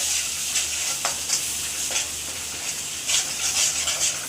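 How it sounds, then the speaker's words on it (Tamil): Cumin powder being stirred into food in a hot pan: steady sizzling and frying with scraping strokes of the utensil every second or so, close and fairly loud, with no voices. "கொஞ்சம் ஜீரகப்பொடி போட்டு லைட்டாக கிண்டி கொடுத்துக்கோங்க"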